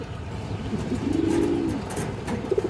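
A pair of black-necked pigeons cooing nearby, one soft rolling coo swelling in the middle, with a short second coo starting at the end, no talking.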